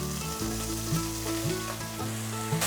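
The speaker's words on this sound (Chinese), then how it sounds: "快速的翻炒" Cauliflower stir-fries quickly in a little oil in a pan, a loud, close crackling sizzle with stirring, accompanied by background music.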